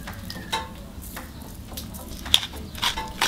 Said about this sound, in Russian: Обильненько добавляем свежемолотого черного перца и хорошенечко перемешиваем.